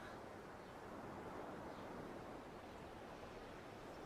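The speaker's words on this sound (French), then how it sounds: "le bruit des vagues te guide peut-être déjà dans tes souvenirs d'un lieu au bord de la mer" Ocean surf washes against a seashore in a soft, even roar, faint and continuous without distinct breaks, and no voices.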